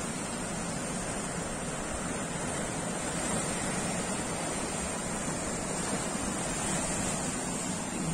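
Sea waves breaking over rocks along a coast at a rising tide, a continuous broadband roar and wash of surf heard alone, steady and fairly distant, with some wind.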